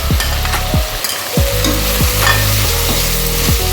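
Masala frying with tomatoes in a pan, a continuous loud sizzle broken by regular spoon strokes scraping the pan about every half second, close up with no voices.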